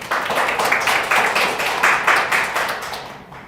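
A congregation at a New Year's Eve church service claps in unison, loud rhythmic rounds of sharp claps in a steady beat close by, ending abruptly.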